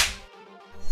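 A single sharp slap across the face cracks loudly at the start, followed by a short fading tail and near quiet.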